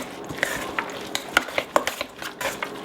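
A spoon stirs a thick lentil meatball mixture in a pan, making loud, close, wet scraping and squelching strokes in an uneven rhythm, with occasional utensil knocks against the pan.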